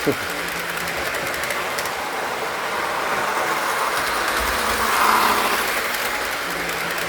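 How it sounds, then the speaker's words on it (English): Gold B&O Chessie System model train engine pulling new cars, heard close as a continuous whirring, rattling hum of the running train with a faint swell midway and a background voice. "Some more trains running."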